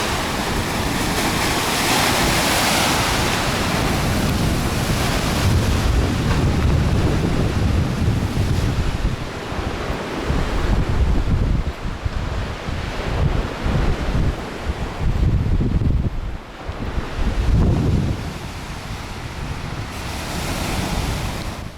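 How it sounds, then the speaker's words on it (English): Strong wind buffets the microphone in heavy roaring gusts while waves wash and break along the shore of Lake Taupō, loud and continuous with no voices. "It's a horrible wind situation here."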